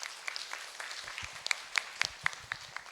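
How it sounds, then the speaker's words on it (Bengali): An audience at a school drama festival gives scattered, fairly faint applause, individual claps standing out in an uneven patter at a moderate distance. "শুভাশিসের জন্য একবার জোরে হাততালি সবাই"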